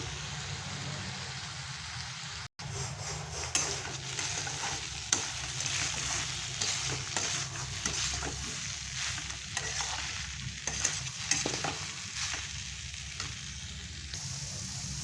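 Beetroot fries with curry leaves in a pan, a continuous close sizzle broken by scattered stirring clicks and scrapes.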